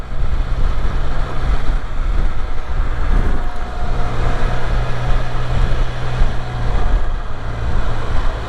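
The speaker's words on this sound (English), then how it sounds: "This is the final ride. Of the Can-Am Spyder." A Can-Am Spyder three-wheel motorcycle on the move, its steady engine drone buried under constant loud wind rush across the microphone, continuous throughout with no speech.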